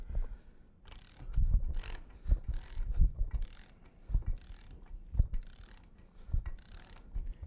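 Ratchet wrench snugging bolts on a ductile pipe mechanical joint during an installation demonstration, giving irregular bursts of clicking strokes at moderate level with pauses between, no talk.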